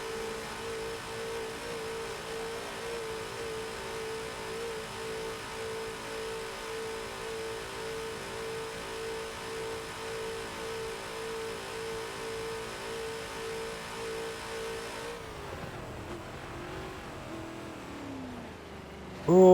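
A racing engine in a Le Mans race in Forza holds a high, even drone at speed on the Old Mulsanne track, then the tone shifts and fades as a Porsche draws near, ending in a brief loud surge.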